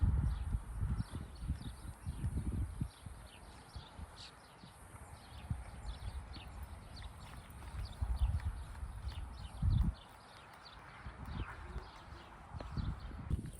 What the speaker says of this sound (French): normalement c'est le cercle au galop, mais là on est toujours à l'échauffement, donc on le fait au trot.